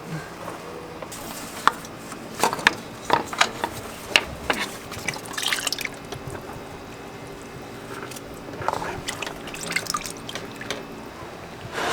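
Oil from the oil filter cooler on a turbocharged Honda K20A2 engine in an Integra dribbles in a scatter of close, irregular drips and small splashes, some clustered and some isolated, over quiet background.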